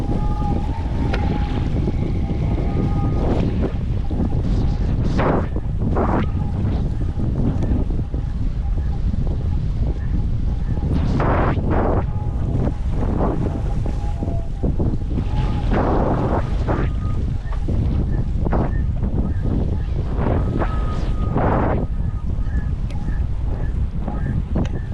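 Westerly wind buffets the microphone during a downwind foil run from Matapouri to Tutukaka in New Zealand, a steady rushing roar broken by gusty bursts and the slap of messy chop against the board.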